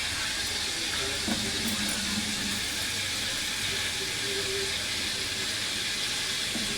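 Running tap water pouring over lentils being washed in a kitchen, a steady broadband hiss with a brief faint voice.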